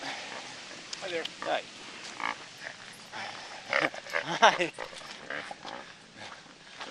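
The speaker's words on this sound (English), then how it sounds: "Dog snorts like a pig." A dog snorts and grunts like a pig in short, rough bursts, fairly close, while a person greets it softly.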